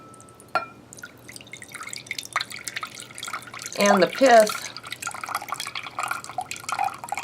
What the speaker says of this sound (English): So what I'm going to do now is I'm going to slowly pour off the water,